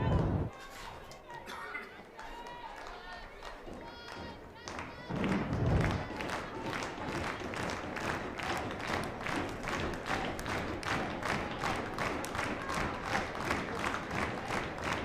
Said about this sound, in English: Rhythmic clapping in the stands for the 2-2 pitch